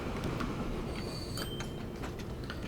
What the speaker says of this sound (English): here comes another train, this time a cargo train.